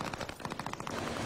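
Rapid bursts of SMG gunfire in a video game, dense repeating shots in steady rhythm that stay loud and close throughout with no speech.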